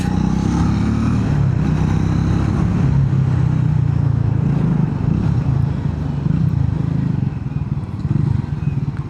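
A Triumph Speed 400 motorcycle is ridden, its engine a steady close drone mixed with wind rush, holding an even note throughout and easing slightly near the end.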